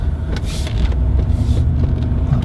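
Mercedes G-Wagon heard from inside while driving around a roundabout, a steady loud low engine and road rumble with no talking.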